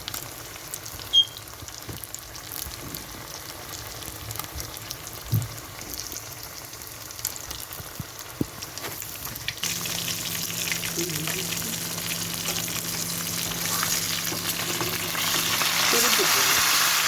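Fish fries in a pan of hot oil for a traditional Jaffna dish, a steady sizzle with a few sharp crackles that grows louder and denser in the second half, with no talk.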